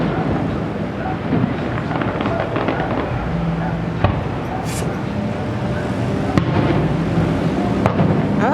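Canada Day fireworks booming outdoors near a vaulted building, steady crackle and rumble with sharp distant reports echoing back off the structure; a few sharp bangs stand out near the end amid low background noise.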